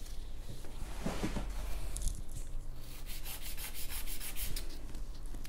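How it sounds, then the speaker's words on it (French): A manual nail file rasps against a fingernail in quick, close back-and-forth strokes, a soft continuous scratching with a few brighter hissing passes. "Pour celles qui aiment travailler avec la lime manuelle, je vous montre ça aussi."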